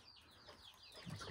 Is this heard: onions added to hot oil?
no